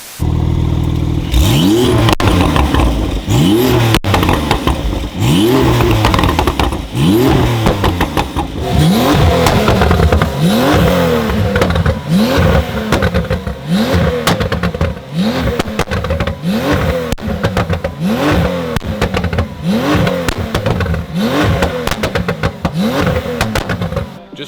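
McLaren 600LT coupe with stage 2 downpipes, running 98 octane fuel in Switzerland, revved hard over and over in a steady rhythm of sharp, loud engine blips close by for about twenty-four seconds.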